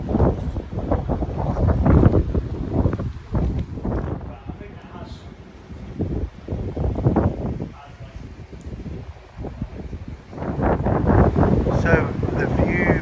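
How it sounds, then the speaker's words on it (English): Gusty wind near the Tamar Bridge buffets the microphone in loud, rumbling bursts, rising and dropping, while people talk over it. "we're going to the station and it's very windy"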